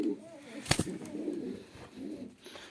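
Breeding pigeons in a loft, including red-marbled hens and their squabs, give soft low cooing over the whole stretch. A sharp flutter or clap stands out near the start, and faint background sounds come and go.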